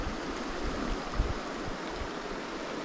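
A mountain stream in the Appalachians rushes along with a steady broadband wash of flowing water, close and continuous, with a few soft low bumps and no voices.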